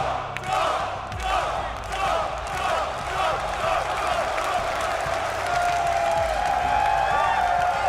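A large crowd at a Counter-Strike esports final cheers and applauds, a roaring wall of shouts and clapping that swells and holds steady in an arena, with loud yells rising through it.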